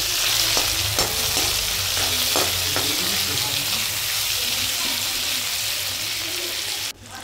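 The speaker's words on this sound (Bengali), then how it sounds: "এবারে হলুদ, লঙ্কা, জিরে, ধনে সমস্ত মশলা দিয়ে আবার ভালো করে কষাচ্ছি" Chopped tomato, ginger-garlic paste, green chili, dried red chili, cumin and bay leaf, with turmeric, chili and coriander powder, sizzle steadily in hot oil in a pan. A spatula scrapes and stirs with several strokes until the sizzling cuts off near the end.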